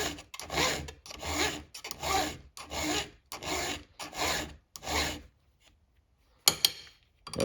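A STIHL HEXA chainsaw chain is filed by hand with light, even rasping strokes, about seven close scrapes in a regular rhythm, then a pause and a final stroke.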